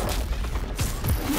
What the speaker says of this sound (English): Explosions and teleportation is a beautiful thing.